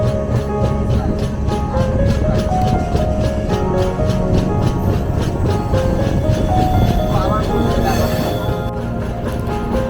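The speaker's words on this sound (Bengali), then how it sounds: "এর মধ্যে দিয়েই ট্রেন চলেছে। এখানে ট্রেন খুব ধীর গতিতেই এখানে ট্রেন পার হয়।" A train moving slowly through the forest of Gorumara National Park, a loud close rumble with rhythmic clanking of wheels and wagons, metallic ringing tones and a brief hiss near the end.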